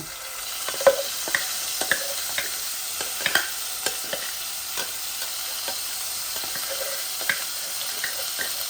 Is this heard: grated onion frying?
yes